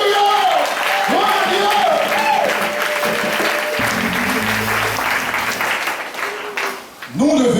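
A church congregation claps and cheers in praise, sustained loud applause with voices singing and calling over it for several seconds, then a short dip before the crowd swells again.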